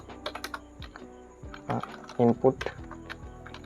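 Code is typed on a computer keyboard in quick clusters of close key clicks, with a few louder keystrokes, as someone talks steadily over them.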